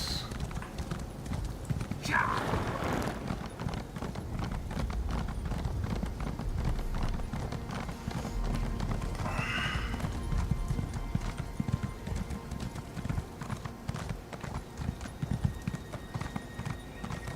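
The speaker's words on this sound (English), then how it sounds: "There's my horse." Steady clip-clop of horse hooves trotting at an even pace in The Elder Scrolls Online, with a brief whinny early on, set against low background rumble.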